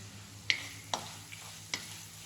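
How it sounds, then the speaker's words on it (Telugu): Cumin and spice powders stirred into oil for a bitter gourd dish, three or four distinct metallic spoon clinks against the pan over a faint, low sizzle. "యాడ్ చేసేసుకున్న తర్వాత మంచిగా కలుపుకుందాం"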